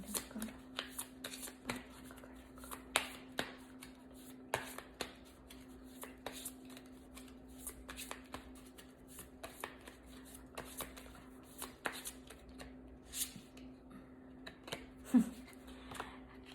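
Tarot cards are shuffled for a reading, a long run of soft, close riffling and flicking bursts at an irregular rhythm over a faint steady hum, with no talking.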